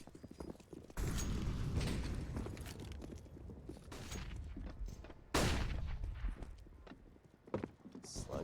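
A1S rifle fire in a Counter-Strike match during an ESEA Premier relegation game: loud, sharp bursts of shots cut in abruptly, with a noisy wash of game sound filling the gaps between them.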